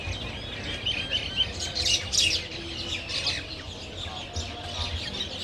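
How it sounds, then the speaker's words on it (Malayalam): Several birds chirp and tweet by a river on Al Noor Island in Sharjah, UAE, with quick, bright calls in bursts over a low, faint background hum. "കിളികളുടെയും സൗണ്ട് അടിപൊളിയായിട്ട് കേൾക്കാം."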